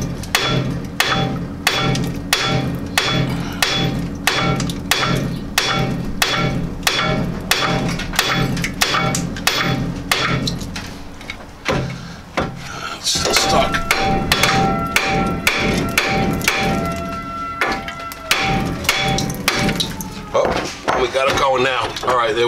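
A hammer pounds on a seized ball joint in a steering knuckle during hub removal, with rapid, loud, evenly spaced metallic blows repeated for a long stretch, a brief pause, then more strikes with some ringing.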